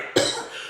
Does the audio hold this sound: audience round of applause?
no